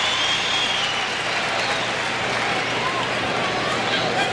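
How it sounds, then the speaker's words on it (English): Steady crowd applause fills a packed NBA arena during a Jazz at Bulls game in January 1998, broad and continuous for the whole stretch with faint murmuring mixed in. "And a pretty decent round of applause."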